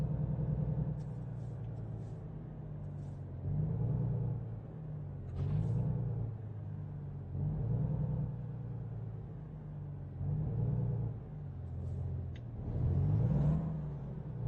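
A truck cruising in American Truck Simulator gives a low, steady engine rumble with gentle rises and falls as it is driven along, mid-level and continuous.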